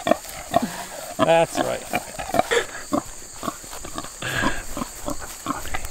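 A farm pig grunts in a few short, rough bursts close by, mixed in with a person talking and other farmyard noise.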